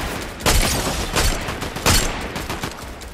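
Gunfire in the video game Fortnite crackles in quick, loud bursts, several sharp volleys over a steady background din.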